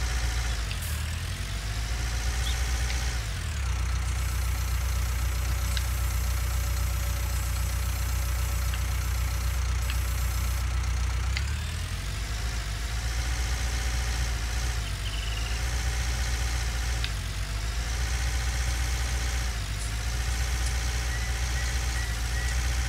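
Tractor engine idling in Farming Simulator 19, a steady mid-pitched diesel rumble that dips and swells in revs several times, loud and constant with no speech.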